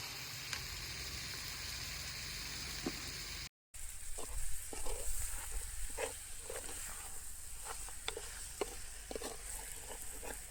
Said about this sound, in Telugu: కారం వేసుకున్న తర్వాత అడుగు పట్టకుండా బాగా కలుపుకోవాలండి